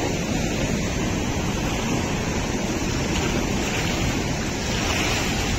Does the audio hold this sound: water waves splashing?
yes